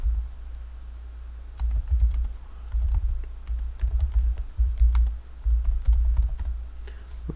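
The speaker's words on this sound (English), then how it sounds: "I'm going to press the F9 key. And I'm just pressing it" Repeated presses of the F9 key on a computer keyboard, a run of light clicking taps over a low steady hum, close and fairly clear, with no talking.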